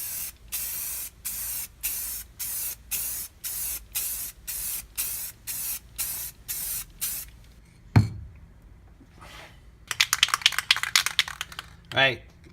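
Clear coat sprayed onto a Polaris XCR 440 snowmobile in bursts: about a dozen evenly spaced hissing pulses from a spray gun, followed by a sharp knock, a pause and a quick cluster of rattling clicks.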